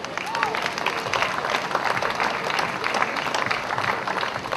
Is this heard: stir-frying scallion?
no